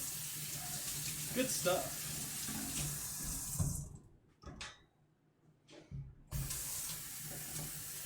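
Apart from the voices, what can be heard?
rinsing a cream bottle under running tap water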